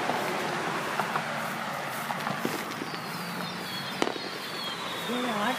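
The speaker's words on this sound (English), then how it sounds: "I can still hear these fireworks." Fourth of July fireworks go off outdoors at a distance, scattered crackles and pops with one sharper bang near the end, heard under people talking nearby.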